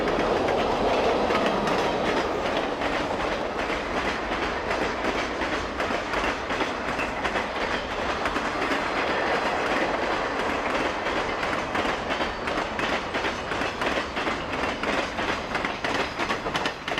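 A City of Los Angeles passenger train, running as a second section, travels eastbound through Weber Canyon, Utah, near Devil's Slide in the 1960s. Loud, steady wheel clickety-clack and rumble continue close by throughout.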